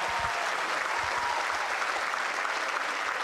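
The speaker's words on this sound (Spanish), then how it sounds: "Démenle un aplauso grande al artista Silvio Doria." A crowd gives a performer sustained, dense applause at a folklore storytelling event in Sucre. The clapping stays steady and loud throughout, with no talking over it.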